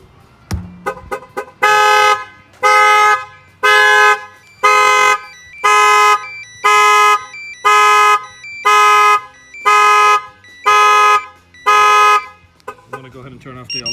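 A car alarm in panic mode blares a pulsing horn tone, loud and close, in about ten even bursts after a few quick chirps, with no speech over it.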